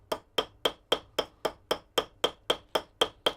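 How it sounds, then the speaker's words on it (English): Hammer peening a rivet on an old kitchen knife handle during repair, about thirteen sharp metallic taps in an even, quick rhythm, close and alone without speech. "So last one, let's peen this one."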